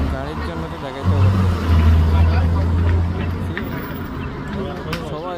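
Cars passing close by along a road beside a beach, a steady low engine and tyre rumble that swells in the middle, with a crowd of people chatting in the background.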